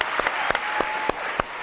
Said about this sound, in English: Yeah, we can clap for that too.